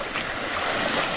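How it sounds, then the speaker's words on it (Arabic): High sea waves surge and break in a steady, loud broadband roar with wind noise, constant through the short stretch and with no voices. "الموج عالي"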